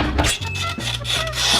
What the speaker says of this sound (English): Here's our sandpaper. Let's just go ahead and cut it to fit this.